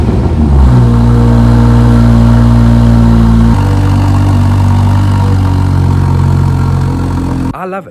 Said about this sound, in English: The little extra that I got on this car was the M Performance exhaust system.